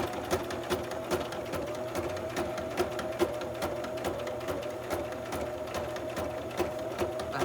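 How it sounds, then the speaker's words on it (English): A sewing machine stitches a fabric cover for a file folder, a continuous close mechanical whirr with rapid regular needle ticks and a few louder knocks, running steadily throughout with no voices. "Behind your sewing machine."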